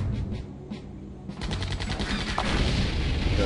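Gunfire in Septerra Core, a quieter rumbling start giving way to a loud burst of rapid shots that keeps going to the end.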